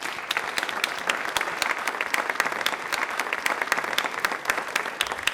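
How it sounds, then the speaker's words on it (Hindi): Steady, vigorous applause from a studio audience at a televised quiz show, dense overlapping claps holding at an even level throughout. "तालियां प्लीज़ एक बार जोरदार हो जाएं"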